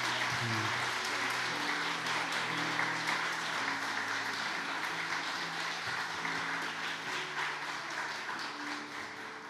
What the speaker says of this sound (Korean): 박수 좀 쳐주시죠.